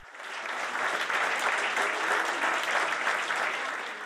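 Guests at a club reception in Eppendorf clap steadily after performances, an even, continuous wash of applause from a sizeable crowd that swells slightly and then tapers.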